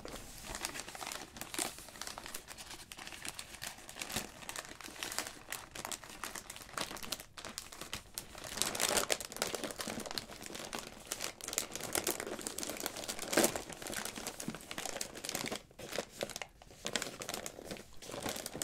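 Black and gold gift wrapping paper crinkles and crumples close up in continuous rustling bursts, with occasional sharper crunches and tearing-like rips, no talking.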